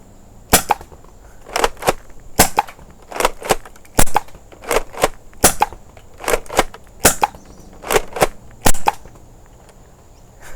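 An HPA-modded Nerf Mega SpeXL blaster fed 100 psi air fires Worker Gen 3 darts in quick groups, roughly twenty loud, sharp pops in uneven bursts, close up, with no talk.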